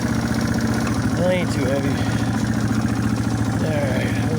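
A Yamaha TW200 motorcycle engine idles close by with a steady, rapid thumping pulse throughout, while someone talks over it.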